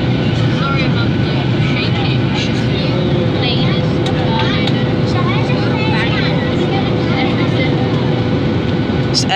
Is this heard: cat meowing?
no